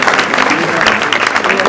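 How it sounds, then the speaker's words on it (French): Audience applause at a seniors' community meal in Longueville, a steady, dense patter of many hands clapping close by for about two seconds, with voices mixed in underneath. "Oui, Simone, on peut l'applaudir"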